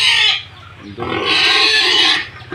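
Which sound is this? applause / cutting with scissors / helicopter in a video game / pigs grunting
pigs grunting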